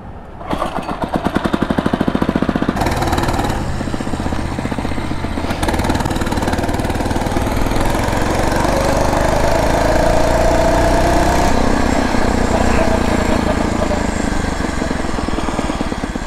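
Phatmoto motorized bicycle engine running steadily through a ride, a loud, buzzing small-engine drone that holds throughout with slight shifts in pitch and a rising whine partway through, close and constant.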